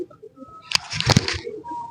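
Jabbar pigeons give a short burst of soft cooing and fluttering calls, close by, clustered in the middle of an otherwise quiet stretch.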